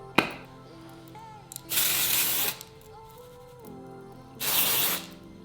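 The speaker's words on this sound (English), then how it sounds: "So I'm gonna put a little dry shampoo." Dry shampoo sprayed onto short hair, two separate loud, close bursts of hissing aerosol, each lasting under a second, with quiet handling sounds in between.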